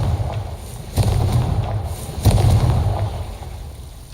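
Confringo fire spell blasts in Hogwarts Legacy, two booming, crackling bursts about a second apart over a low rumbling background, close and with no talk.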